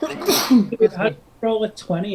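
A single sharp sneeze bursts out at a tabletop fantasy role-playing session, followed by people talking close by.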